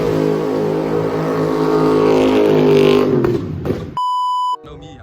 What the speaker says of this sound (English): Car sound crazy.